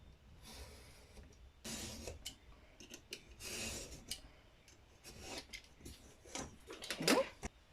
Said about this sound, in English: I'm just trimming the edge to make sure that we have a good right angle